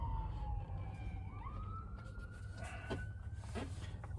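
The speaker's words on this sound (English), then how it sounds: "It's an ambulance." An ambulance siren sweeps up and down as it passes on a road with traffic pulling over, moderately faint through steady vehicle rumble, with a few sharp knocks near the end.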